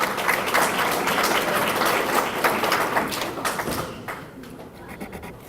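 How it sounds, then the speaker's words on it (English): A room full of banquet guests applauds a scholarship winner with sustained, crowded clapping that holds for about four seconds before fading to sparse claps. "We give Kelsey a round of applause,"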